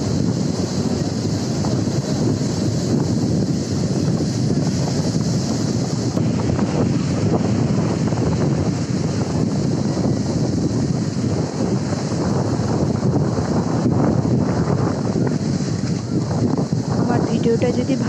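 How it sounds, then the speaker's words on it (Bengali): Monsoon sea waves at Digha Mohona roll and crash continuously, mixed with heavy wind buffeting the microphone, loud and unbroken throughout. "বর্ষাকাল তো ওর জন্য মনে হয় ঢেউগুলো এত সুন্দর।"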